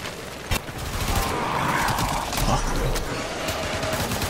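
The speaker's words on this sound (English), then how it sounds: "You're shooting at it." Sustained video game gunfire from Warframe crackles in a dense, continuous barrage with sharp individual shots poking through, loud and close, with other game effects mixed in.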